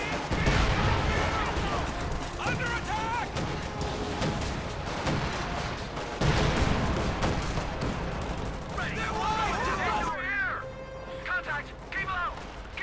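Mortar half-track strikes land in a Company of Heroes 2 battle: dense, continuous gunfire and explosions fill the clip at steady loudness, with a commentator's voice running over the combat noise.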